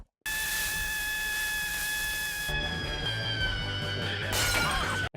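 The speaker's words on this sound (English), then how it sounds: "the shriek itself shattering glasses in the studio" A piercing sustained shriek from a TV show scene shatters glasses in a studio, a loud steady tonal scream giving way to crashing, tinkling glass breakage and rumbling debris.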